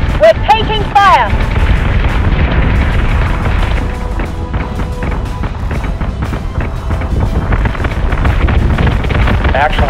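Incoming enemy fire in the space combat game Battlestar Galactica Deadlock, a dense rumbling barrage of rapid impacts and blasts under a steady roar, with a voice speaking briefly at the start.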